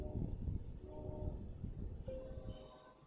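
A train in a Roblox game rumbles along with a low, steady clatter, then a short horn-like tone sounds near the end, all fairly quiet.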